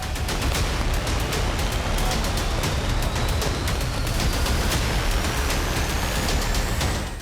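Celebratory fireworks crackle and pop in a dense, rapid barrage, loud and unbroken from start to finish.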